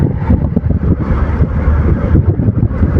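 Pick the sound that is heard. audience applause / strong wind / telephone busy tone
strong wind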